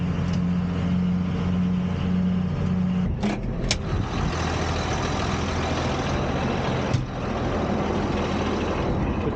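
An Allis Chalmers 8030 tractor drives a hay mower cutting first-cut hay, a steady loud diesel drone with a low hum, broken by brief mechanical clunks around a third of the way through and again near the end.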